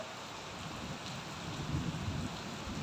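Steady heavy rain pours in Pattaya, a dense continuous hiss with a low rumble underneath that swells slightly toward the end, heard alone with no talking.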